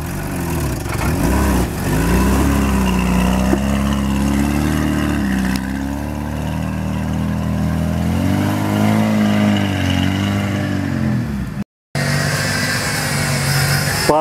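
An off-road car engine hums steadily as the vehicle drives, rising and falling in pitch as it revs and eases off, close and continuous, with a brief dropout near the end.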